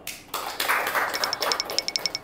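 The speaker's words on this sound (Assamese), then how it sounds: "এতিয়া এইটো মাৰক হাত তালি মাৰক" Hands clap in a quick run of sharp, evenly spaced claps at a teachers' training session, following brief louder noise, close and without talk.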